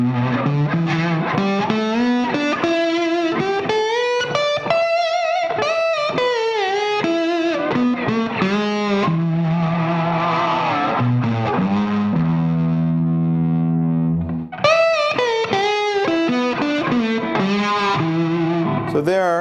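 Distorted electric slide guitar runs through major pentatonic phrases, gliding between notes with held chords and a short pause before the line resumes, played alone without talk.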